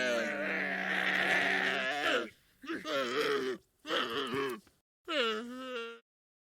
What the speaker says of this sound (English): Correct! It's a camel!